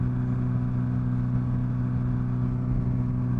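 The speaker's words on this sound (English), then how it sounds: "the cars are kind of ruining it" Cars pass on a summer evening road, a steady close engine and tyre drone that holds evenly throughout with no breaks or talk.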